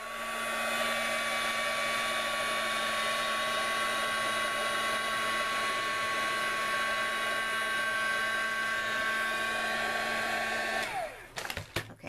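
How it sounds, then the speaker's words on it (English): A heat gun blows a steady, loud, high-pitched whirring stream of air to dry paint on a card. It runs unbroken for about eleven seconds, then cuts off with a brief clatter. "I'm going to grab my heat gun for 1 second. And I'm going to dry this."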